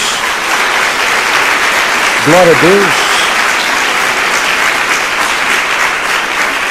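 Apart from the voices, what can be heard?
applause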